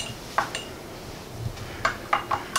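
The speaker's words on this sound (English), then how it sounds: "Give that a stir just to the syrup." Metal spoon clinks against a pot while beef shank syrup is stirred, several light scraping taps spread unevenly over a couple of seconds, close by and fairly quiet.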